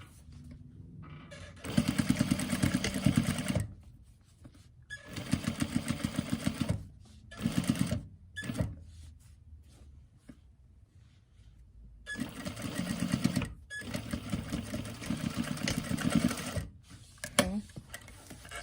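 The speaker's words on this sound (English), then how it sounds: "this time I want to take my time and sew it down" A sewing machine stitches a fabric face mask in several loud, fast bursts of rapid mechanical chatter separated by short pauses, with a voice talking between runs.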